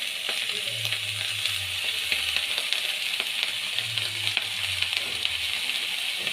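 Cut potato and eggplant fry in hot oil in a pan, with a steady bright sizzle and occasional scraping as they are stirred. There are a few soft low bumps underneath and no speech.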